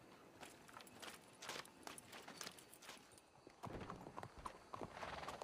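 Horse hooves clip-clopping in the video game Red Dead Redemption 2, a quick, uneven run of close hoof knocks that grows louder and denser toward the end, with no voices.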